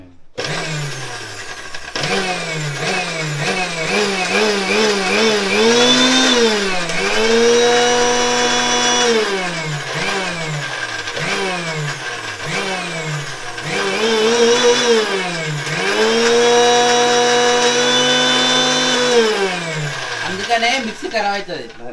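An already worn, faltering kitchen mixer grinder in a village home whines loudly up close, its motor surging and dropping in repeated short pulses before settling into longer steady runs.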